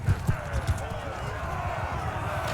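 A horse gallops in a Mount & Blade II Bannerlord battle, a few hard hoofbeats thudding near at the start before fading into the muffled din of combat, with someone talking over it.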